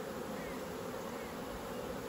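A close, continuous drone of honey bees clustered on a hive frame, the buzzing steady and moderately loud throughout with no voices.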